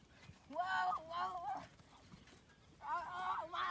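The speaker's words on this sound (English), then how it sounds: "Oh, my horse is taking off." Horse hooves clip-clopping as the horse takes off on a cowboy outing, with a man calling out over the steps; rhythmic thuds come in two bursts.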